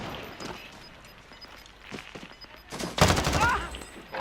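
Rapid gunfire bursts from Call of Duty: Warzone in Plunder mode, scattered shots building to a loud, dense volley near the end, with voices talking over it.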